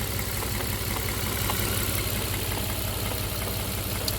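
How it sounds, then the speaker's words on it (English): Volvo XC engine idling steadily after repairs for a cylinder misfire and a new PCV valve, a close, continuous low rumble with an even, smooth running rhythm and no talk. "Engine got more stable."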